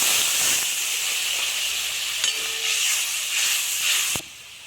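Water poured into a hot pan of cashew and melon-seed paste for a Bengali stuffed pointed gourd dish, giving a steady loud hiss and sizzle that runs unbroken and cuts off abruptly near the end.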